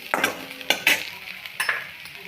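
Onion greens frying with a spoonful of masala for a Maharashtrian bhaji are stirred in a pan, giving a few quick scraping strokes over a light sizzle, close and clear with no speech.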